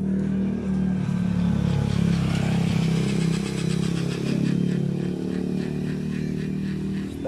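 A handheld car polishing machine, an inexpensive unit used to buff out scratches on a car's paint, runs with a steady motor drone and a faint rattling buzz that holds at a constant level throughout, with no talk.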